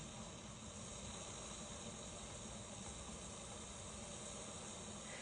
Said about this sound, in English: There is steam coming up here. It's coming out of this hole.